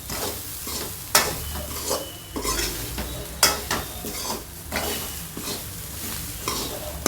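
Ingredients for a Chettinad-style chicken white kurma stirred and sautéed in a pan, steady sizzling frying with repeated scraping stir strokes and occasional utensil clanks, close and fairly loud.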